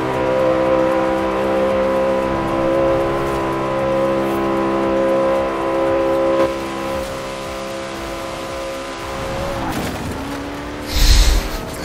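A Koenigsegg Regera hypercar accelerates hard in an open-world racing game, its engine holding a loud steady harmonic whine through the gears before a brief dip and a closing thump.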